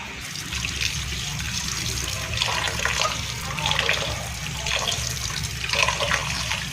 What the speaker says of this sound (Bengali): তো এই পাশ থেকে আমি চাল ধুয়ে নিচ্ছি, পোলার চাল